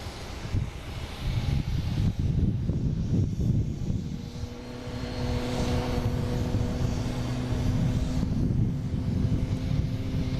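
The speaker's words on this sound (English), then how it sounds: "we also have an American Airlines coming in from Philly, a Philly special" An American Airlines jet from Philadelphia lands at Boston Logan, with a sustained, moderately distant engine roar that swells and holds steady as it comes in.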